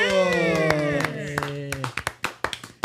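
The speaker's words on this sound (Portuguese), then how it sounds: "muitas palmas pro Fábio Medeiros!" A few hands clap for a chiropractor guest on a radio interview program, sparse sharp claps that come through under a host's voice and then continue as scattered, individual claps.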